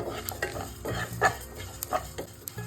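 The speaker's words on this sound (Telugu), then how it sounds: "ఇవన్నీ కూడా మంచిగా ఫ్రై అయిపోయాయండి." Sesame, coriander and cumin seeds dry-roasting in a pan, stirred with a spatula in a series of scraping strokes and light clatters, close and fairly quiet, no talk.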